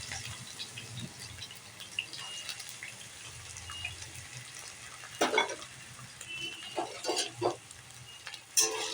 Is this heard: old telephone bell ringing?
no